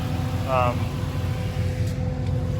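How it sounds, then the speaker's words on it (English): Pickup truck with a swapped 5.3 V8 engine running steadily nearby with a brief rev, under someone talking. "It revs up, it works"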